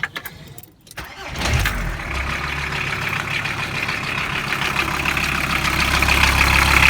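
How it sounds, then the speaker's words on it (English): A Volkswagen T4 van engine cranks briefly and catches, then settles into a steady, loud idle right after its serpentine belt was replaced, the running hum continuing evenly to the end. "Make sure the engine runs fine and the belt doesn't fly off."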